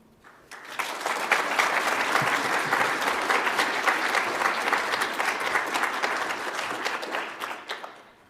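Sustained applause from a ceremony audience at a nursing school pinning event, starting abruptly, holding full and even for several seconds, then tapering off at the end.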